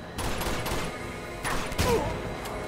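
Shotgun blasts from the Uncharted 2 video game on PS4, a couple of heavy booming shots over busy game ambience, fairly loud and close.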